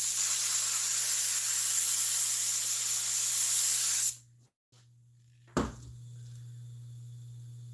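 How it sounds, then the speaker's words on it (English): A loud, continuous hiss of aerosol spray glue runs for about four seconds, then cuts off, followed by a brief clatter and quiet. "So when I spray glue on"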